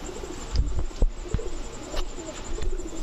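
A green-necked pair of pigeons, male and female, cooing close by in low, repeated soft coos, with faint chirps and light background noise.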